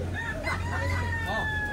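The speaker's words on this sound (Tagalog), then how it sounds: "May hawak na manok" A rooster crows once, a loud drawn-out call with rising and falling pitch, over a low steady hum and faint background noise.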